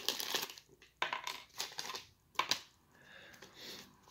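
Old 1990 Topps bubble gum cracks and snaps like brittle glass, a few sharp crunchy breaks with short pauses between them, close and fairly quiet with no talking.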